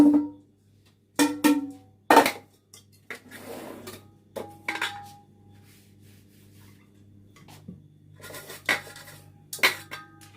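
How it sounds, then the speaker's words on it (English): Chocolate cake batter being scraped and divided between two 8-inch baking pans, with loud intermittent clinks and scrapes of utensils against metal pans and quieter rubbing sounds between them, close up and without talk. "Now we're going to split this between the two 8-inch pans."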